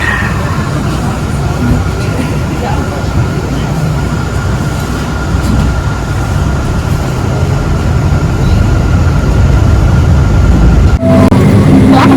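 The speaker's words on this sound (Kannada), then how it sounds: "ಇಂಟರ್ಲಾಕನ್ ವೆಸ್ಟ್ ರೈಲ್ವೆ ಸ್ಟೇಷನ್" Train at Interlaken West railway station in Switzerland, heard as a loud, continuous close rumble of rolling rail cars with a faint steady tone above it, ending in a brief clunk.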